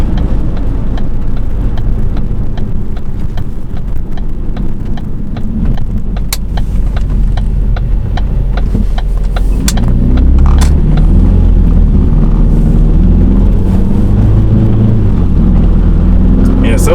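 A Ford Focus with a dual-clutch transmission pulls away and shifts from first to second gear, its engine droning loudly from inside the cabin, rising and settling as the gear changes, with a person talking over it.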